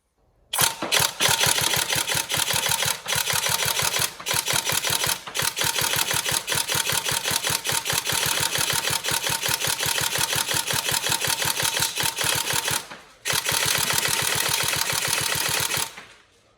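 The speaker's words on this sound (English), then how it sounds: "Nice and quick on the single shots there." A TM SCAR-L airsoft electric gun with a brushless motor firing single shots in quick succession, a dense run of sharp, evenly spaced mechanical clacks, close and loud, broken by a couple of short pauses.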